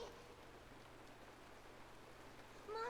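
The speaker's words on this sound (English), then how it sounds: "It's raining." Rain falls in a scene from the video game Honkai: Star Rail, a faint, even patter of noise with a low hum beneath it and a short tonal chirp at the end.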